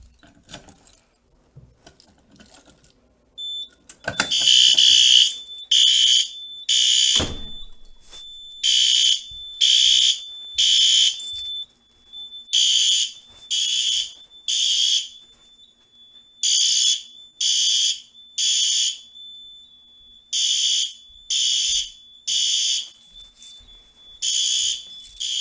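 Simplex fire alarm horns sound in sync during a key test of a Simplex 4010 panel, a loud repeating pattern of short, harsh blasts in bursts that carries on for over twenty seconds after some faint handling noise at the start.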